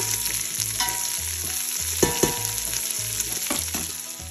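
Bacon and diced onion fry in a pan for Southern-style collards, a dense close sizzling crackle with a few sharper spatters and stirring scrapes, no talk.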